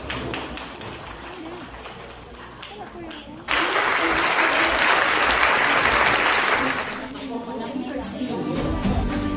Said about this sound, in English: May we all give a round of applause and welcome Dr. Jacobo Maria de la Vega Mendoza.